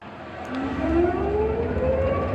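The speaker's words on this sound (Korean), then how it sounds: "사이렌 소리죠." A loud siren wails at a KBO baseball game as part of a team's lineup song, its tone rising steadily in pitch over a dense, noisy crowd background.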